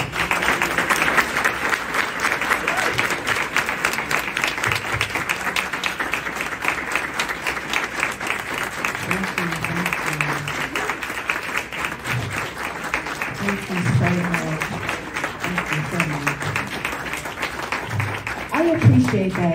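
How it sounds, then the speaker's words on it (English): A roomful of people at a real estate event honoring women trailblazers breaks into sustained, dense applause lasting around twenty seconds, with some voices speaking beneath and through the clapping. "give these ladies a wonderful round of applause"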